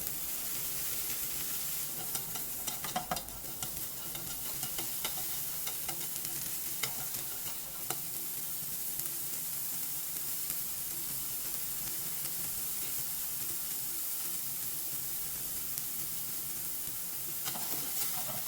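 Bellflower root (doraji) stir-fried in an oiled frying pan over moderate heat for bibimbap, a steady soft sizzle with occasional spatula scrapes and taps, close and even throughout, no voices.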